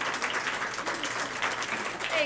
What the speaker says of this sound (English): if you think I earned applause